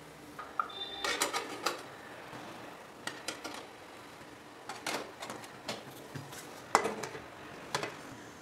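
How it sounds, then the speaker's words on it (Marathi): Metal kurdai moulds set into an idli steamer pot over boiling water, several sharp clinks and clatters spaced across the clip with low background hiss. "याच्यामध्ये आपण आता हे साचे ठेवून घेऊया"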